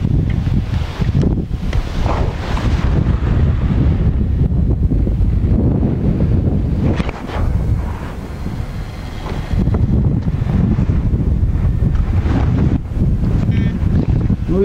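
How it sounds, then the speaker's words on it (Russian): Strong gusty wind buffeting the microphone at a carp fishing pond, roaring continuously with a brief lull midway, with water sloshing underneath. "ветер все-таки сильный"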